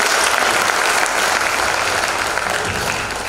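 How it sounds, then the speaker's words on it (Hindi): An audience at a Hindi poetry recital breaks into steady, dense applause that fills the whole stretch, loud and close, slowly tapering toward the end with no talk over it. "जोरदार तालियां बजाएं।"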